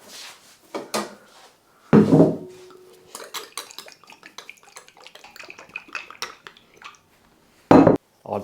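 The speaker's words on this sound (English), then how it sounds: "Now, what we're going to do is take a clean bowl and get some olive oil in it." A clean mixing bowl is pulled out and handled in a home kitchen while bread is being made, giving two sharp clattering knocks with soft clinks and taps between them and no talking.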